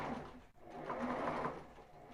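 A sewing machine runs a zigzag stitch on a ribbed knit tank top, a faint, steady whirring hum with a short break just after the start, with no talking.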